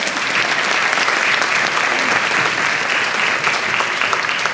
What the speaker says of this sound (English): you can give him an applause